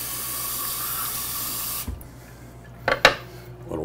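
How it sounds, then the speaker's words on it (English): Kitchen tap water runs steadily as a knife is rinsed, a continuous hiss that cuts off abruptly, followed by a couple of brief clatters. "Knife, a little rinse."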